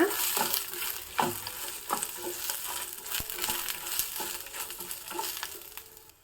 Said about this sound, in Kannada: ಚೆನ್ನಾಗಿ ಹುರಿಬೇಕು ಎಣ್ಣೆಯಲ್ಲೇ ಫ್ರೈ ಆಗಬೇಕು